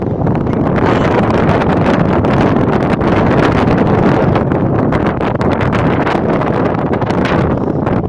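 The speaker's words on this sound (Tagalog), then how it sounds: "Ang lakas ng hangin, pero exciting." Strong, gusty wind on a high tower buffets the microphone in a continuous roar, loud and unbroken, with no talking.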